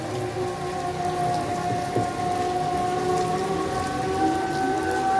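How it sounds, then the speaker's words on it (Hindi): Heavy rain pours steadily in Sialkot, Pakistan, a dense hiss of drops drumming on surfaces with a faint low rumble underneath; no voices. "बाकी बारिश के नज़ारे लें जी आप, फुल तेज है"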